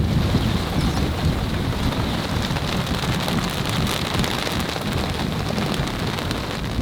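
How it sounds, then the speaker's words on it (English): A squall sweeps over a boat at anchor in the Bahamas, with wind and rain hitting it. The result is a loud, dense, unbroken roar of rain and gusts that stays steady throughout. "that's the squall coming"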